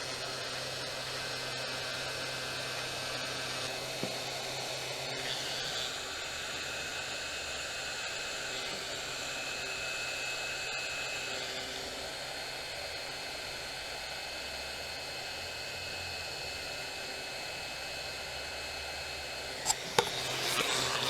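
A heat gun runs steadily while shrinking heat-shrink tubing over the wiring of a Harley-Davidson 48, a continuous close airy roar lasting throughout with a brief click near the end.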